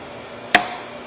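A single sharp knife chop strikes the cutting board as a vegetable is sliced into 1-inch pieces for beef kabobs, one brief close tap against a quiet background.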